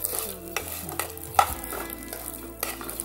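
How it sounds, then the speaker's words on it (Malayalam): Semiya vermicelli being fried and stirred in a pan, giving a gentle sizzle broken by a few sharp scraping knocks of the utensil, close up and quiet, with no speech. "ഇതിലേക്ക് ആ സേമിയ ഇട്ട് വറക്കാം"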